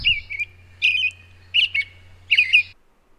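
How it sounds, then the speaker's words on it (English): Several clear, whistled phrases from a songbird such as an American robin, each lasting about half a second, repeat in a steady rhythm over a low steady hum. The song is loud, close, and sounds alone. "the American robin"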